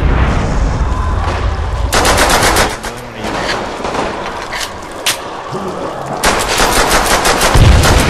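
Call of Duty: World at War gameplay produces loud, close bursts of automatic gunfire, with rapid machine-gun volleys starting and stopping in several clusters and scattered single shots in between.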